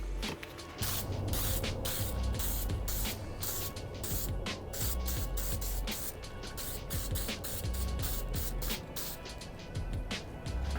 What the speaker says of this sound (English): The first thing we're gonna do before we lay down some paint is use some Bulldog adhesion promoter.